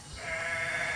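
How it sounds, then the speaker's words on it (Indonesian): A single sheep bleats close by, one drawn-out wavering call that swells and holds, with no talking. "Si Haji Ali loba jiga dombana ya."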